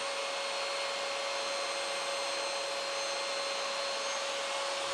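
A table saw fitted with a sled shaves thin slices from a block of extremely hard wood, giving a loud, steady, unbroken whine with a constant hum and no pause or voices.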